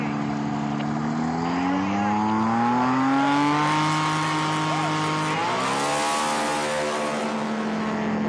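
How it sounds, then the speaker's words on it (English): Piston engine of a STOL aircraft running at high RPM on the line before a STOL drag race, a loud sustained drone whose pitch climbs steadily, dips briefly, then rises again, close and continuous. "Listen to this RPM of this engine."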